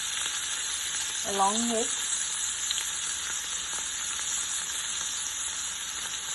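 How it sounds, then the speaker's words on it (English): Tomatoes, spring onion and mint leaves fry in a pan with a steady, close sizzling hiss that runs the whole time, with a brief voice speaking early on. "let it cook until the tomatoes are really nice and soft"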